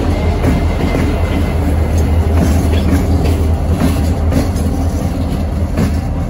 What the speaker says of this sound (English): The yard job is shoving a loaded grain hopper to the Flowers baking plant.